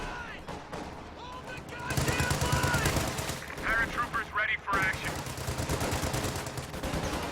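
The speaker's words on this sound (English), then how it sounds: "So many light machine guns managed to suppress both of these squads." Light machine gun fire in Company of Heroes 2, dense rattling bursts that swell after a quieter start, mixed with other battle noise and game voice callouts.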